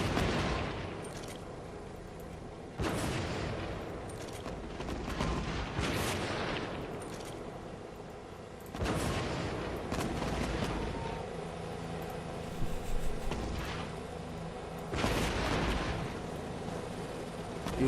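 Mortar and rocket artillery fire in the zombie strategy game Cepheus Protocol: repeated booming blasts and crackling barrages arrive in waves every few seconds, rumbling and dense, with no voices over them.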